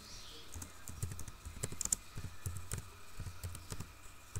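Soft, steady tapping of keys on a computer keyboard, close and fairly quiet, with an uneven typing rhythm.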